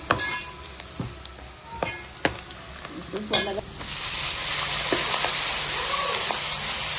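Ponnaganti greens with chickpeas frying in a pan, starting with scattered clinks and stirring knocks, then breaking into a loud, steady, close sizzle that fills the rest of the clip.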